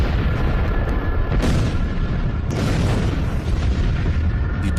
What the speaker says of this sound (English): the fireball entered our atmosphere and violently exploded above